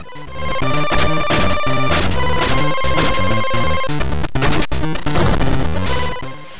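Loud, harsh Game Boy chiptune music from Killer Instinct, with buzzy square-wave melodies and clattering noise percussion, played continuously with no talking.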